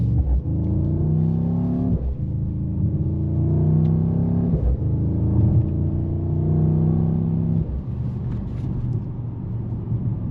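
A 2026 Mercedes-AMG GT 63 four-door V8 sedan accelerates hard in Sport Plus mode, its engine rising in pitch through quick upshifts with brief dips between gears, a loud, deep rumble heard from inside the cabin.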